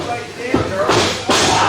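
Wrestler slammed onto the ring mat by a snap suplex at a Hard Knox Society match, a sharp thud landing under continuous commentator talk.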